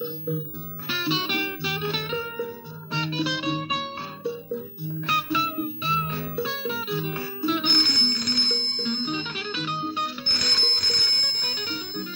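A bright electronic ringtone plays a repeating, bell-like melody, loud and steady, cycling through the same phrase several times with no voices.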